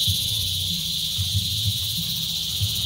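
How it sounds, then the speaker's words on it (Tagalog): Crickets chirping loudly at night outside a home, a dense continuous high-pitched trill with low rumbling background, no talk over it. "Grabe ang ingay mga kuliglig."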